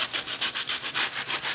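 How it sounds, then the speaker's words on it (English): Sandpaper rubbed over the sharp cut edges of a homemade backpacking windscreen half, a close, steady rasping in about ten quick back-and-forth strokes with no talking. "I'm just going to take a minute to sand mine down, the sharp edges that we cut"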